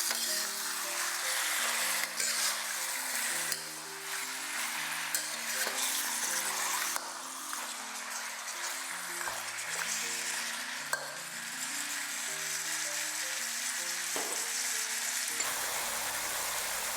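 Chicken stir-frying in sesame oil with spring onions in a pan, a steady sizzle and frying hiss with stirring scrapes throughout, loud and close, no talking, with a soft music bed underneath.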